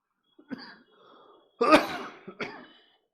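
A person coughs and clears their throat in a few harsh bursts, close and loud, with short quiet gaps between.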